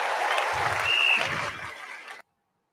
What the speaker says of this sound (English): How about a round of applause for Tucker Carlson for being here and doing this, everybody?